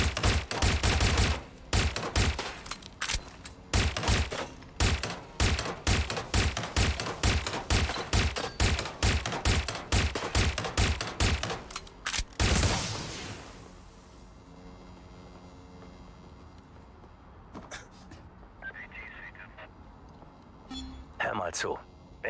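Rapid bursts of gunfire tear into a turret in Watch Dogs: Legion, loud and sharply repeated for about twelve seconds before giving way to a quieter stretch with scattered impacts and a murmuring voice.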